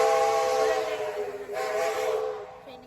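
A steam train's whistle sounds on a Christmas night run in New Zealand, a loud sustained tonal blast that fades and swells again before tapering off, with faint background murmur.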